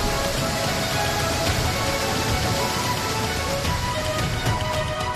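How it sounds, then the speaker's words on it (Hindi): Heavy rain pours down in Purulia, West Bengal, a dense, even roar of drops hitting surfaces, loud and constant with no voices. "पश्चिम बंगाल के पुरुलिया में भारी बारिश से तबाही की तस्वीरें आ रही हैं।"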